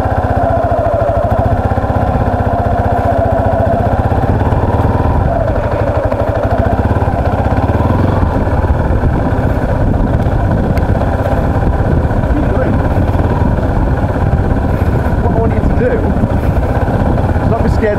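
A learner rider revs a motorbike engine, working the throttle and clutch in a steady low drone with rising and falling tones, close by and partly under a voice talking.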